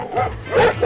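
A dog gives a short, close bark or yip, a quick vocal burst heard in a brief moment with no other sound around it.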